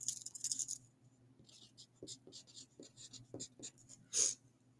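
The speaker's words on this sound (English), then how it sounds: "Let me erase." Erasing pencil or marker on a surface during math notes: a series of soft, quick scrubbing strokes, close and quiet, with a brief scratchy burst near the end.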